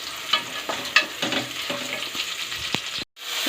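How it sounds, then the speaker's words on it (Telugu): Slit green chillies frying in a pan, a moderate sizzle broken by several sharp spatula taps and scrapes, then a sudden cut to silence near the end before the sizzle returns. "పచ్చిమిర్చి కూడా వేసి కొద్దిగా ఫ్రై చేసుకోవాలి"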